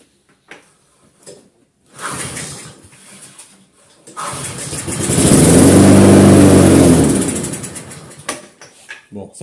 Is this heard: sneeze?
no